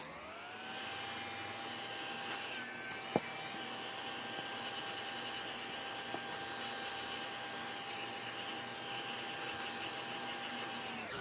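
Steady whirring blast of a heat tool drying painted scrapbook paper, loud and continuous from start to finish with a couple of small clicks, no voices.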